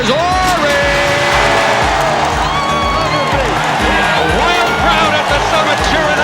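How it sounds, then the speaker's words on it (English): A packed crowd at the Summit arena cheering during a Houston Rockets NBA basketball game in the 1993-94 season, loud and sustained with whoops and shouts, under steady music and a voice running throughout. "Summit cheering on an 18-point Houston Rocket lead"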